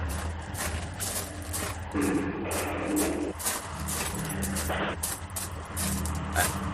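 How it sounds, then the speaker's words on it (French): Car sound effect in a French radio play of Balzac's La Duchesse de Langeais, set near a small road by the sea. A low engine rumble runs throughout, broken by repeated hissing bursts, steady and moderately close, with no voices. "Voici ma voiture, monte."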